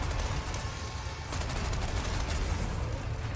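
Dense, loud gunfire in Resident Evil 4 Remake, a rapid continuous volley of shots with a booming low end that swells in intensity partway through, with no speech.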